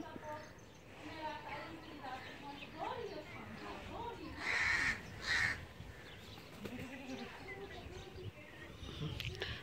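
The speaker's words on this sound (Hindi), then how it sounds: "यहाँ कौवे वाफिर मिकदार में।" Harsh crow caws ring out in a couple of loud bursts midway, over steady talk and background chatter outdoors in a village among chikoo, jamun and neem trees.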